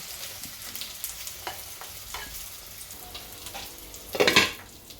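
Fish frying in oil in a pan, a soft continuous sizzle with occasional stirring and scraping, ending in a brief louder burst of hissing as the pieces are turned.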